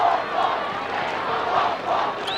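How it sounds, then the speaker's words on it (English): Roaring crowd at a 1996 Hawthorn versus Geelong Australian football match, a loud, sustained swell of cheering and shouting from a big stadium audience, steady throughout. "It's thumped away over the line to the roar of the crowd."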